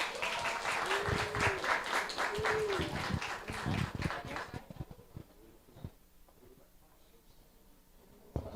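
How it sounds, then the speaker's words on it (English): An audience at a student internship programme closing ceremony claps in a dense, lively burst of applause that then tapers off into scattered, fading claps and quieter room noise. "but they're clapping."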